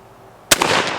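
A single sharp gunshot from a Mosin Nagant M91/30 rifle cracks out after a quiet half second, followed by a short ringing outdoor echo.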